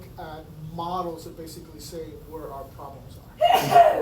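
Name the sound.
a sneeze in the audience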